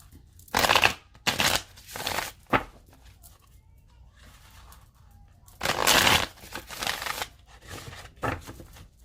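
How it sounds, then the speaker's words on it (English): A deck of cards is shuffled in several separate bursts of riffling and shuffling, close and moderately loud, with quiet pauses between them. "I'm going to shuffle it 3 more times."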